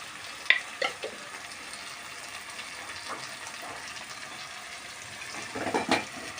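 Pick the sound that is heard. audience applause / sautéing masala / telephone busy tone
sautéing masala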